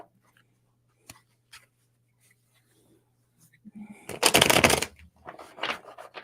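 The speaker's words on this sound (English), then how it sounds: "Let me shuffle the cards the proper way again" A few faint taps, then a loud, close riffle of tarot cards being shuffled, followed by softer card handling.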